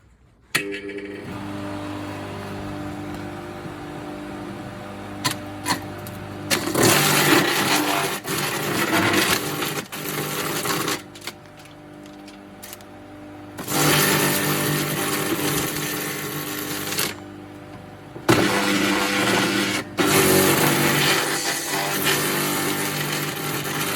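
A budget BGH 2400 branch shredder chews through a fresh, green branch: a steady motor hum breaks into three loud bursts of woody grinding and crunching, close by, with no talking.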